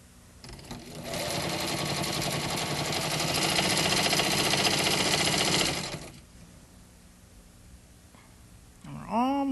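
A sewing machine stitches and eases a strip of cloth into fabric, running in a steady, loud mechanical whir for about five seconds before winding down, with a voice beginning to speak just after it stops.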